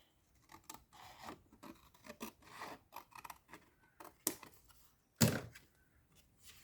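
Scissors snip through card along a faint pencil line in short rasping cuts at an uneven rhythm, close and quiet, with a couple of sharper snaps near the end.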